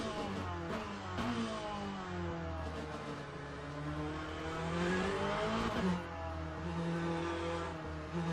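A Corvette's engine in a racing video game revs and drops through a second-gear corner with a steady, moderately quiet drone and shifting pitch, no talking over it.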